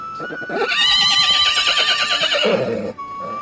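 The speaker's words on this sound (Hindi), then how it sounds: "अचानक घोड़े की हिनहिनाने की आवाज।" A horse gives a loud, close neigh: a long shrill whinny that wavers in pitch and then trails off, heard over a faint steady background tone.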